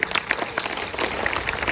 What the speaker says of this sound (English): let's put our hands together and give them a good clap for the girls who spoke well